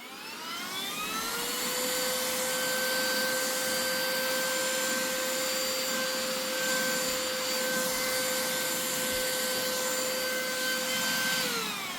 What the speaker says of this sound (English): I did buy from Temu. I bought this. A little vacuum.